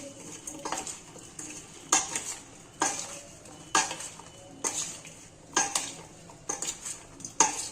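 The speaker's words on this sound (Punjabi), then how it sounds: "ਚੰਗੀ ਤਰ੍ਹਾਂ ਮਿਕਸ ਕਰਾਂਗੇ" A spoon stirs onion pickle ingredients in a bowl, striking it in sharp, regular metallic clinks roughly once a second, with soft scraping between the knocks.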